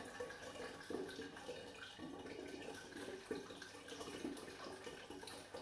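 Apple juice poured into a glass demijohn with sugar already added, for a batch of scrumpy cider, making a steady, faint liquid stream with gentle gurgling bursts throughout, no voices.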